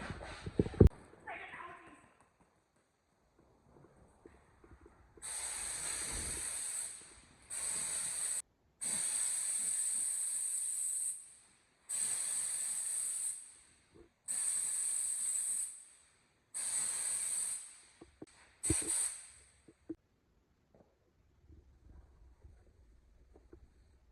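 Repeated bursts of sharp hissing spray, six or seven in a row each lasting about a second or two, separated by quiet pauses with faint clatter.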